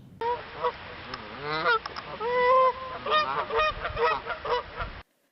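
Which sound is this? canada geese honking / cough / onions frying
canada geese honking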